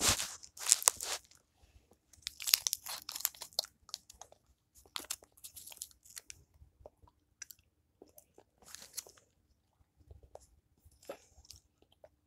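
Someone chews a gumball up close, with crunchy bites and wet smacking at the start that ease into sparse, quiet chewing sounds in a near-silent room.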